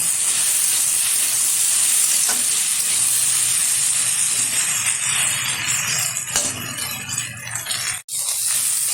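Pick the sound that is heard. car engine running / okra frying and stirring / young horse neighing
okra frying and stirring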